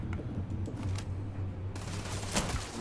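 Gunfire in the video game Starfield comes as a rapid burst of shots, with sharp repeated cracks over a low background hum at moderate level.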